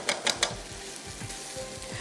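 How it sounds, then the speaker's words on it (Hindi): Rice being stir-fried with prawns and peanuts in a pan, giving a steady low sizzle with a few sharp scraping clicks of the spatula near the start, close and moderately quiet, with no voices. "स्टर फ्राई कर दीजिएगा चावलों को,"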